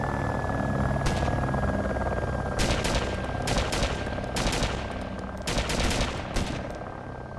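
Rapid bursts of gunfire from the video game ARMA 2 crack out in repeated volleys at a helicopter over a constant droning engine rumble, with a steady high tone running beneath.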